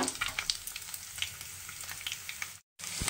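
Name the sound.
morola fish frying in oil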